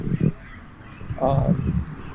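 Wild birds in Medellín, Colombia, a couple of short cawing calls near the start and more later, heard close among outdoor street sounds with voices underneath.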